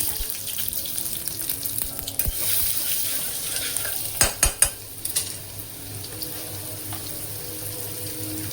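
Asafoetida, curry leaves and crushed garlic hit hot oil with a soft steady sizzle, with a burst of sharp crackles and pops midway, then calmer frying with faint stirring.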